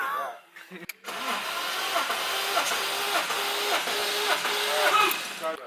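A Honda Civic engine cranks over with the throttle wide open during a compression test, giving a close, steady, rhythmic churning with a faint hiss that follows a brief pause.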